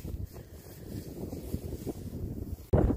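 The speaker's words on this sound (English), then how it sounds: "it's windy in North Dakota" Gusty wind in North Dakota buffets the microphone with low rumbling roars that swell and fade, ending in a sudden strong, loud gust.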